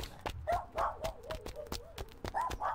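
A small dachshund barks repeatedly in short, sharp yips, several quick barks with brief whimpery tones between them, close and fairly loud.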